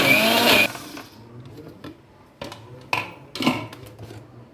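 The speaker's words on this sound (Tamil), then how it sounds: "ஸோ இந்த அளவுக்கு அரைச்சிருக்கோம் பார்த்திங்களா இன்னும் கொஞ்சம் அரைக்கணும்" Mixer grinder grinding spice paste for urundai kuzhambu in a kitchen, a loud whirring burst at the start, then a few short pulses separated by quieter gaps.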